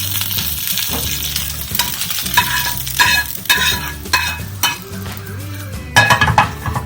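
A spoon stirs ghee tempering into ven pongal, a South Indian rice and lentil dish with crushed pepper and jeera, giving repeated close scraping and clinking against the pot over a soft sizzle.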